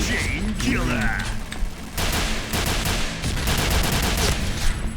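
Rapid gunfire in a first-person shooter game, bursts of shots that start after a brief lull and then keep crackling in quick succession, with a voice talking excitedly over the shooting.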